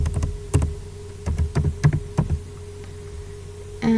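Fingers type on a computer keyboard in short uneven bursts of crisp, close clicks, broken by brief pauses, with no talking.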